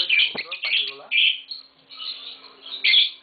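Close, loud chirps and shrill warbling trills from a pair of green Fischer's lovebirds kept indoors, coming in several bursts with brief gaps and no human voice.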